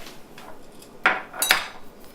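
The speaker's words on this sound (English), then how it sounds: "now I just put the coffee pot in the coffee maker and turn on the machine" A glass coffee pot is set into a drip coffee maker, giving two bright clinks and knocks of glass on plastic close up in a quiet kitchen.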